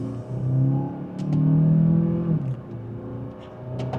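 A 2027 Kia Telluride HEV SX hybrid SUV accelerates in sport mode in second gear, its engine droning up in pitch, easing, then rising again, with faint clicks over the steady hum.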